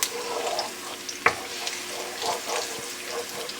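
Garlic starting to fry in a pan over high heat, a broad steady sizzle with a few sharp clinks and scrapes of a utensil, close and moderately loud, no talking.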